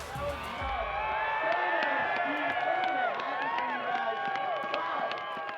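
Crowd cheering and whooping steadily at a snowboard competition in BC, Canada, a dense continuous roar of many voices with excited shouts rising through it, fairly loud and sustained throughout.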